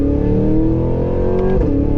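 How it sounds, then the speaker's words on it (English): The exhaust of a 2023 Cadillac Escalade V drones with a deep, loud, sustained rumble heard from close by as the engine revs, with a brief shift in pitch near the end. "listen to that exhaust"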